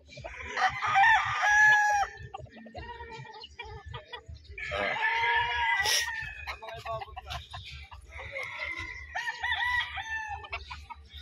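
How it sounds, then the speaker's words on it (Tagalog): Bulik hens cluck and a rooster crows in several loud bursts, with softer clucking and farmyard noise in between. "nakikita natin ito yung bulik na mga inahin ni Chill ka lang"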